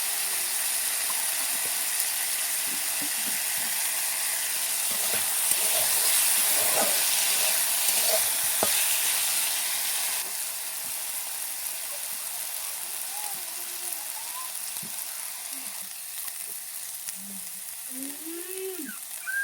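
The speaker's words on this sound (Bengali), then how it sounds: "আলুটাকে ভেজে নিয়েছি" Thinly chopped potatoes with a little turmeric frying in oil, a steady high hiss and sizzle that is stronger early on, then settles lower, with occasional soft stirring clicks and no talking.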